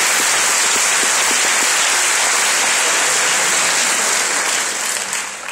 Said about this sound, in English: You need to give them a huge round of applause because they put on events.